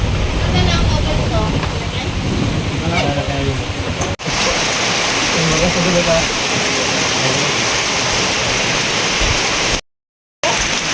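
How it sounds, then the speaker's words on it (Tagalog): Heavy rain pours steadily with loud wind buffeting the microphone at the Mapita view deck, and a voice speaks briefly at the start. "Sobrang lakas ng hangin. Ganun din na malakas ng ulan."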